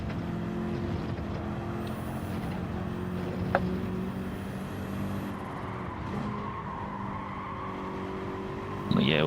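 Citroen race car in Gran Turismo 7, its engine droning steadily at high revs throughout, with a brief sharp click midway and a short burst of tire or shifting noise near the end.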